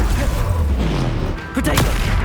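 Spells cast in quick succession during Hogwarts Legacy combat, Bombarda, Confringo, Glacius and Repulsor, give loud blasts and bursts over a busy game soundscape, with a sharper burst near the end.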